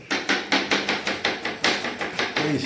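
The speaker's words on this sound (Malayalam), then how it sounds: "ഇതാ രജിസിൻ്റെ ഉള്ളി വെട്ടൽ" Knife chopping onions on a board in a camp or travel kitchen: about a dozen sharp, evenly paced chops, close and fairly loud, with no talk.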